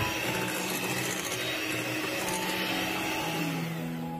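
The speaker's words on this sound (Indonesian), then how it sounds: "Lalu dimix dengan kecepatan paling rendah sebentar." A continuous electric motor whirs steadily, with a high whine and shifting tonal hum, an electric hand mixer running at its lowest speed without pause, mixing brownie batter.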